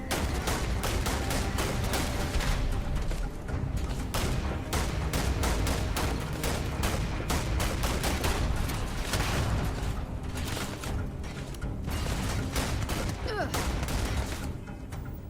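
Rapid, dense gunfire in Starfield, sharp shots packed close together in continuous bursts for the whole stretch, loud and near, with a voice talking now and then underneath.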